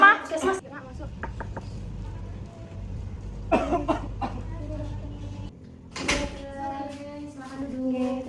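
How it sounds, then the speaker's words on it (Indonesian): A patient in a drama about tuberculosis coughs several times in short broadband bursts, with quieter talk and room noise between them. "Terus aku dari kemarin tuh kayak full batuk-batuk terus itu."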